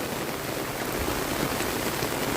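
Steady rain falls in Srinivasapuram during flooding, a dense, even hiss of drops that continues without a break and with no voices.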